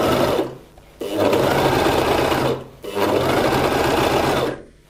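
A Gritzner 788 overlock sewing machine stitches in three loud, steady bursts of rapid whirring, each cutting off into short pauses between runs.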